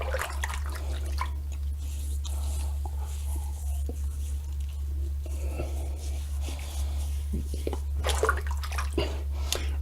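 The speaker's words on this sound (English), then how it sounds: "I'm gonna rinse off some of it at least." Running water splashing while mentholated pre-shave soap is rinsed off a face, a steady tap flow with patters and drips, close and continuous, under a low background hum.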